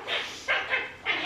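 A young puppy growls and yips in three short rough bursts, close and fairly loud, with no talking over it.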